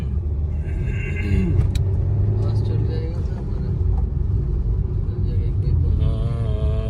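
Road traffic in a jam with a long line of lorries and buses, engines rumbling low and steady close by throughout, with a brief horn-like tone and people talking over it.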